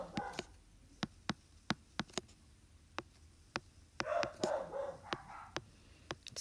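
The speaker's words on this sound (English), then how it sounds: "Sorry about the dogs in the background." Dogs bark in sharp, repeated single yaps spaced through the background, fairly faint and distant, with a brief stretch of mixed yipping midway and no talking.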